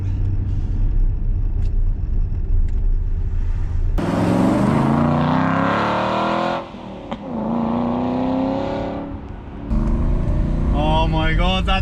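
A 2008 Aston Martin V8 Vantage on a country drive surges under acceleration from inside the cabin, its engine note climbing loud and rumbling through several seconds, easing off and then building again.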